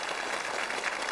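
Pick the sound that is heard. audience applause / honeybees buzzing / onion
audience applause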